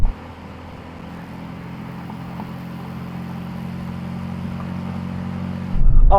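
A Mercedes-AMG C63, BMW M3 Touring and Audi RS4 Competition launch in a drag race, giving a loud, steady engine drone that holds for several seconds and then surges abruptly louder near the end.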